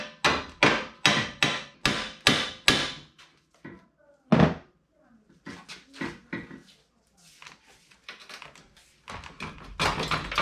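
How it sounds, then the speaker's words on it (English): Hammer blows knocking out the bumper bracket on a 2009 Mini Cooper, a rapid run of loud, close metallic strikes, a pause, then further irregular lighter taps and a final burst of hits. "I'm going to hammer out the bumper bracket."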